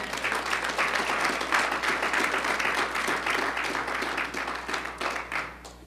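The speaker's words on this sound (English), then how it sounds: "they deserve a round of applause." Applause from a church congregation during a Sunday morning service, with sustained clapping from many hands filling the room and no talking over it.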